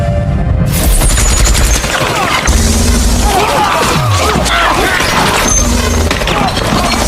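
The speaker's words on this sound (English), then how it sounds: "Duncan used his advanced weapon and killed Vivian and everyone who came with her." Rapid bursts of gunfire from an advanced movie weapon in a film shootout, loud and dense with booms and crashing impacts over an underlying score, with no speech.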